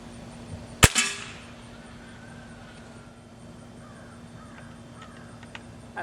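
A Winchester 1100 XSU .177 underlever springer air rifle fires one sharp, loud shot near the start, then a brief ringing decay and quiet background.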